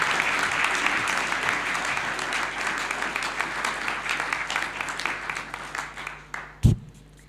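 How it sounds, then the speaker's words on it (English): A room full of people at a meeting of the Africa Initiative applauds steadily for several seconds, the clapping thinning out toward the end before a final loud thump. "Madame Rachel requires and deserves another round of applause"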